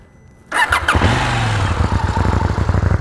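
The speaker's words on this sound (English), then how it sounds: "Let me actually switch on the bike and make you listen to it." A KTM Duke 790 inline-twin motorcycle engine cranks and fires up after a short silence, then settles into a loud, steady, throbbing idle close by in the desert.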